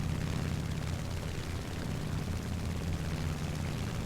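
A He 112 B-0 propeller fighter in War Thunder diving, giving a steady, dense engine drone with rushing air noise that holds evenly throughout, no voices.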